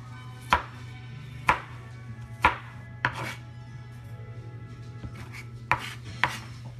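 Onions being chopped with a knife on a cutting board, seven or so sharp, separate knocks at an uneven pace over a steady low hum, close by and fairly loud, with no talk.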